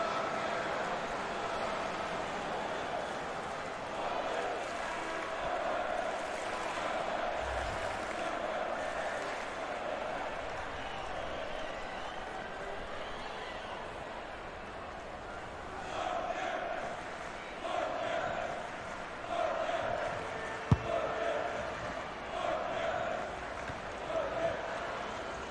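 Stadium crowd in the FIFA 19 video game during a Women's World Cup match between Norway and Nigeria, a steady distant roar with chanting swells, under continuous commentary.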